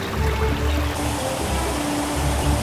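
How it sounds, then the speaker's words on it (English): Steady rushing water of a waterfall in a wild plain setting, a continuous loud splashing wash with no pauses. "The waterfall scared them a lot. It roared, thundered, and splashed water everywhere."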